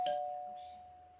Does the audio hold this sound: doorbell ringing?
yes